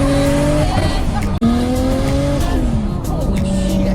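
A Nissan RB26-engined car revs hard and accelerates up close, its engine note rising and falling through gear changes with tire squeal, loud and continuous over four seconds.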